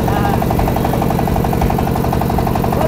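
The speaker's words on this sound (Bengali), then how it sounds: "মানে অত্যন্ত সুন্দর ভাবে কিন্তু তার নৌকা চালাচ্ছে।" A motor boat engine drones on the Padma river at Bamanabad, India, with a loud, close, steady throbbing pulse that stays even throughout.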